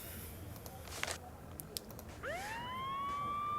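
A siren effect from a Nancy Drew video game, The Phantom of Venice, rises after soft clicking and settles into a steady, loud wailing tone that holds to the end.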